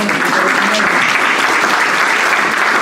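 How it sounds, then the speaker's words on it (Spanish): Church congregation at a Sunday service bursting into loud, sustained applause, a dense continuous clatter of many hands, with a voice faintly audible underneath. "Regálale ese aplauso, Señor."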